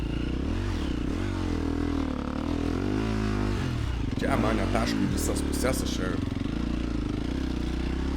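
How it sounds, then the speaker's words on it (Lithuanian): A motocross bike ridden in a cross-country race, with a steady engine drone whose pitch rises and falls as the rider shifts and accelerates, joined by scraping and clattering near the end while a voice talks over it. "Aš čia važiuoju, kur motociklas nori, kad jis važiuotų."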